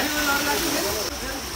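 The Tama Khola river in Dorpa, Khotang, rushes with a loud, steady, broadband roar close by, and a voice speaks over the water.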